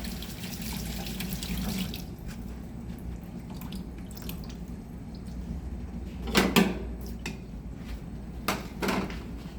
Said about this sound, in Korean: 그래서 물에 한번 헹궈 주셔야 돼요.